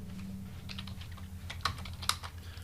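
Steady keyboard typing, a continuous patter of keystrokes with a couple of sharper clacks, close up, over a low background hum.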